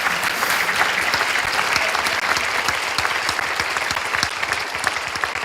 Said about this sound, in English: So can we get a big round of applause for them